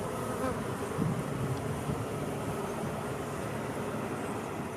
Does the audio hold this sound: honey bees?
yes